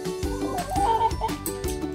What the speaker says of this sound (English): The chickens are very hungry.